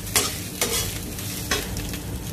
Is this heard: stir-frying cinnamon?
yes